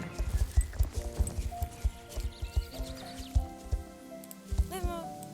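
A horse named Cayenne clip-clops through a training session, its hooves striking in a steady, close rhythm throughout while someone speaks French over the footfalls.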